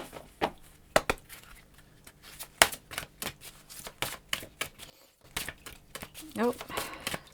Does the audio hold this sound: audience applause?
no